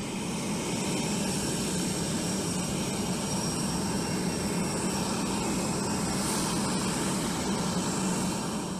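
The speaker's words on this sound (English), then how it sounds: "TF-39 turbofan engines. These incredible engines deliver an awe-inspiring amount of thrust, allowing the C-5 to conquer the skies with ease." A C-5 aircraft's GE TF-39 turbofan engines produce a steady, loud, broadband jet roar with a faint high whine, continuous and unbroken throughout.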